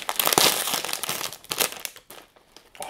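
A plastic bag of Hanami prawn crackers crinkles up close, with loud crackling bursts that come in quick irregular handfuls and then fade to a few soft rustles.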